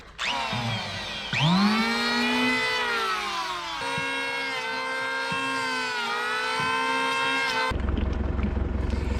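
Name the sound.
shaving a wooden Dutchman patch off a boat hull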